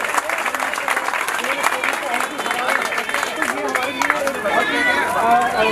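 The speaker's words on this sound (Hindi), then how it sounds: "जोरदार तालियों से भाई चिराग जैन का भी स्वागत और सम्मान।" A crowd at a gathering breaks into lively, sustained applause to welcome a speaker, with clapping continuing under voices and crowd chatter that grow busier toward the end.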